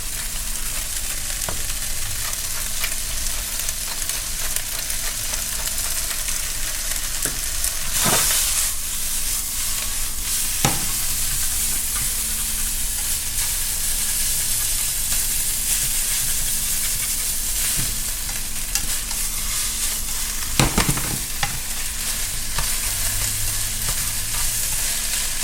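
Seafood ramen noodles are stir-fried in a hot pan, with a continuous loud sizzle and hiss and a few sharp scraping clatters of stirring.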